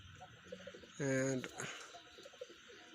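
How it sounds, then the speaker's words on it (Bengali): A male Hyderabadi Nili pigeon gives one clear, loud coo lasting about half a second amid faint background chatter and quiet bird sounds. "মদ্দাটাও খুব ভালো ডাকে মদ্দারা সবাই ডাকে"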